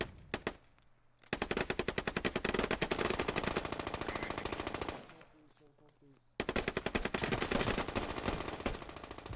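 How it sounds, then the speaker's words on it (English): Automatic gunfire in the video game Squad, dense rapid bursts of shots from nearby, loud and sustained, pausing briefly before another long burst resumes. "Shots coming in northeast."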